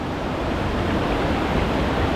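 A forest waterfall near a living root bridge in India, heard as a loud, steady broadband rush of flowing water with no break.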